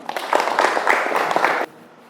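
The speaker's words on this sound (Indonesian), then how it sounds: "Tepuk tangan sekali lagi untuk kita semua" A class in a teacher-training lesson gives a short burst of steady, fairly close applause, which stops abruptly after about a second and a half.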